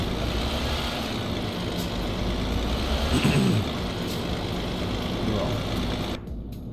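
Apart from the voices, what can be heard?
truck engine outside cab in video game Euro Truck Simulator 2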